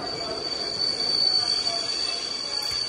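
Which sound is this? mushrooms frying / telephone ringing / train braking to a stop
train braking to a stop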